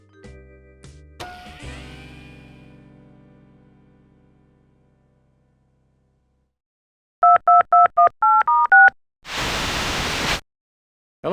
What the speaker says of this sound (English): My new vid phone is essential to my business.